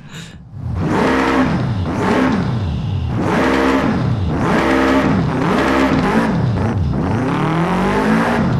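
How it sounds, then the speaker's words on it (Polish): A boxer-engine car in the racing game Forza Horizon 5 revs hard through repeated rising gear pulls, each climbing then dropping in a steady rhythm, loud and close with no talk. "Ten brzmi jak bokser."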